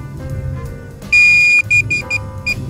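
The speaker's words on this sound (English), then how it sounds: "Now it's beeping constantly." DJI Avata motion controller emitting high electronic beeps while pairing: one long steady tone followed by several short beeps in an irregular run, loud and close over a low background hum.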